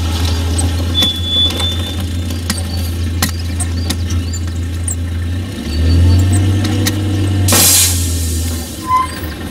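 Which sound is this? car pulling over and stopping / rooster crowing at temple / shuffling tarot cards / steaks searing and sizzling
car pulling over and stopping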